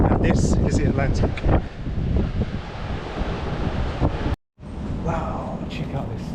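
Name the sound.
Atlantic Ocean waves on the Dominican Republic coast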